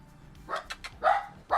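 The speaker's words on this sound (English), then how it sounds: "I'm sorry about the barking." A pet dog named Maxie barks indoors in a few sharp, loud bursts, with short gaps between them and a final bark cut off at the end.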